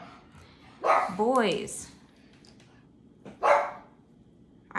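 Pug dogs barking indoors: two loud bursts of yapping barks close by, the first a quick run of high yips and whines, the second a single sharp bark, with someone saying a word in between.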